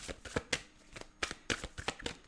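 A tarot card deck is cut and shuffled, giving a series of quick, soft, close-up riffling snaps and slaps in irregular bursts, quiet and without talk.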